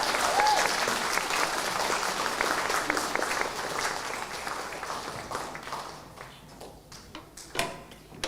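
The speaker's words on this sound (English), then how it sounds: "Can we give her a big round of applause," Audience applause at an awards ceremony for learning disability and autism leaders, a broad sustained clapping from a large crowd that thins and fades toward the end, with a few scattered claps lingering.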